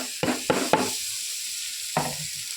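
Grated raw mango frying in a pan of tempering with spices, a few quick hissing stirs close up over a steady sizzle, with a brief pause before one more scrape.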